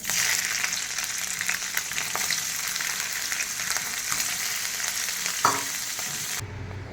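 Paneer fries lightly in a little oil in a wok, giving a steady, close sizzling hiss with occasional stirring scrapes that runs for several seconds before cutting off abruptly near the end.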